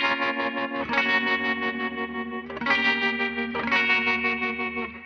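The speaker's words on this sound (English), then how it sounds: "Now you can hear the delay and reverb only on one side." Electric guitar with delay and reverb panned to one side, strummed chords ringing out in a steady pulse with shimmering, chorus-like echoes, fairly loud and alone without talk.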